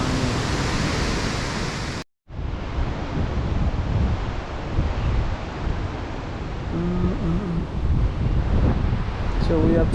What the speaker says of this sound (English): And the waterfall finally.